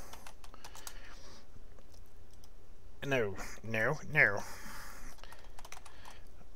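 Steady clicking of a computer keyboard while someone types, with a brief voice speaking over the keys partway through.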